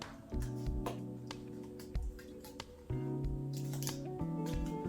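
Tape is pulled off a roll and pressed onto a concrete planter mould, giving squeaky, tonal stretches of tape in several long pulls broken by short gaps and crisp ticks.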